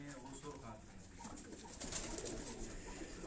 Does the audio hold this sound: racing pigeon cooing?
yes